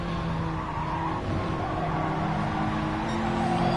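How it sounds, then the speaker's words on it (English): An Audi TT race car in an endurance cup race roars steadily at high revs, its engine note loud and continuous with tires squealing and scrubbing under it throughout. "Listen to that car purr. The wheels screech."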